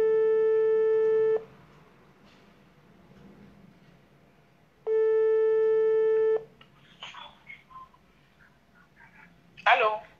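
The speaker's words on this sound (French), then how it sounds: "Allô? Oui, j'ai mis le haut-parleur, Nadège." Two long steady electronic telephone tones, each lasting about a second and a half, ring out loud over a speakerphone with a pause between them, followed by faint murmuring and brief voices.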